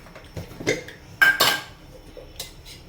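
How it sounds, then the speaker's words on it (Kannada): A kadai set down on a gas stove makes a few metallic clanks and clinks, with a sharper, louder clatter in the middle of the sequence and no voices. "ನಾನು ಗ್ಯಾಸ್ ಮ್ಯಾಗೆ ಈಗ ಕಡಾಯಿ ಏರ್ಸೀನಿ"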